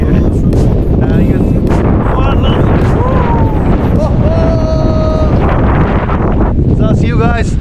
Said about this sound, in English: It's really windy, getting windy here.